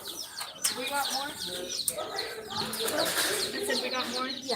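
Young chicks and ducklings, along with turkey poults, chirp and cluck in a lively overlapping chorus, with many sharp peeps sounding close by and brief movement noises beneath.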